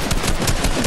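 Rapid bursts of automatic gunfire in a video game, loud and close, a quick rattling string of shots filling one second with no voices.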